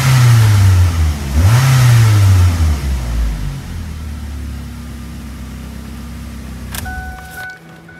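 Ford Focus with stock intake and exhaust revving in two quick, loud throttle blips that rise and fall, then settling to a steady idle before a few clicks and the engine shutting off.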